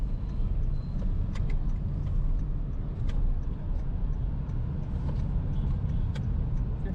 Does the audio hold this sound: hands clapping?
no